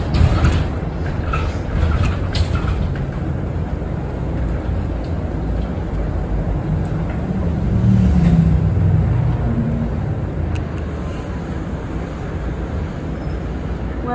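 A Volvo B7RLE bus with Custom Coaches CB80 body on route 305 to Redfern, heard from inside as a steady low engine and road rumble, swelling slightly midway, with no talk.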